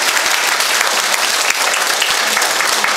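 An audience at an inauguration ceremony gives sustained, dense applause, many hands clapping evenly and loudly throughout with no pauses or voices.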